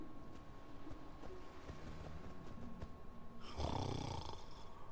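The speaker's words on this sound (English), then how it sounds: "Even his snore makes him sound like a know-it-all." A cartoon character snores in a domestic Minecraft setting, a low rasping breath swelling loudly near the end over faint background noise.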